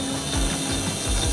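A small $150 CNC router with a tiny teacup spindle running at low RPM cuts out a circle, making a steady mechanical whir with a low rhythmic grinding that repeats every few tenths of a second.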